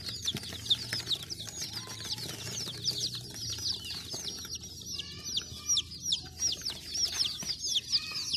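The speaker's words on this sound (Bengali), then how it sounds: "মুরগিটা সম্পূর্ণ সুস্থ আলহামদুলিল্লাহ এটা বয়স ছয় থেকে সাত দিন" A six-to-seven-day-old colourful hen chick, healthy and growing its true feathers, peeps in rapid, continuous high chirps close by, with no talking.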